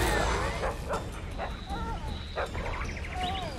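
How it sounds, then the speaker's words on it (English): A dog in the Witcher 2 video game barks in a series of short, sharp yips over game ambience, fairly near and repeated several times. "Doggo is barking."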